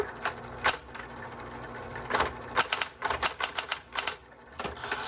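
Smith Corona Coronet manual typewriter keys strike in irregular bursts, sharp clacks clustered quickly together with brief pauses, close and fairly clear.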